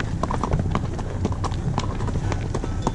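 Cattle hooves plod over ground in the Picos de Europa mountains, a steady stream of uneven clopping steps close by for the whole stretch, with no clear voices over them.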